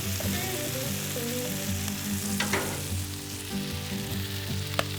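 Bacon sizzles and crackles steadily on a Loco griddle while breakfast tacos are cooked, a dense, continuous frying hiss with occasional sharper pops and no talking.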